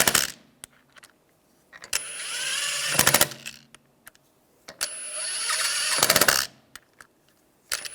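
Lug bolts are run into the rear wheel hub of a 2001-2006 BMW 3-series with a power tool, giving two whirring, rattling bursts, each ending in sharp impact clatter, separated by quiet clicks.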